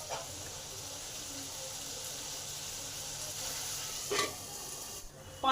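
Potatoes fry under a lid in a covered pan, giving a steady soft sizzle that holds constant, with a brief clatter near the end.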